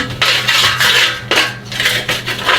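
A spoon spreads ghee over carrot halwa, giving repeated close metallic scrapes and clinks against the dish in an uneven rhythm, loud and with no talk.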